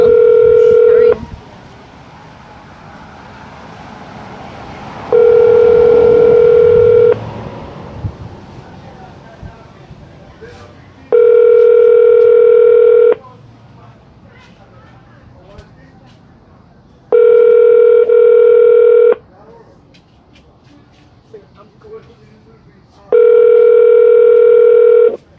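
Ringback tone of an outgoing telephone call, five loud, steady rings of about two seconds each, repeating every six seconds or so, with faint background noise in the gaps.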